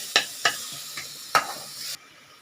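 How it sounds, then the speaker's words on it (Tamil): Masala spices with turmeric sautéing in oil in a pan for a bitter gourd dish, several sharp scraping stirs over a soft sizzle that stops abruptly near the end, no talking. "இப்போ இந்த மசாலாலாம் நல்லா வதங்கிடுதுங்க"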